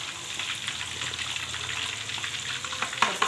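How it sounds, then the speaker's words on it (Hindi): Fish coated in batter frying in hot oil, giving a steady close sizzle and crackle with a few louder pops near the end, with no talk. "बस इसको हम इस तरह फ्राई करके इसको डन कर लेंगे।"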